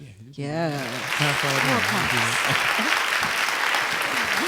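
An audience bursts into sustained applause, dense clapping filling the space as someone speaks briefly over the start and vocal tones continue underneath.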